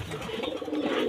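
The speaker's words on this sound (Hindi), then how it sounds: "ये काला कबूतर है मैकपाई का" A black magpie pigeon gives a short, soft coo at close range, a single low murmuring call with no voices over it.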